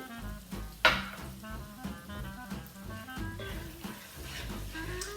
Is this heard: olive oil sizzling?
yes